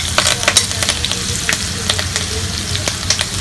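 Cumin seeds and garlic frying in hot oil for a Maharashtrian besan pithla, a loud, close, continuous sizzle with crackling pops and stirring scrapes.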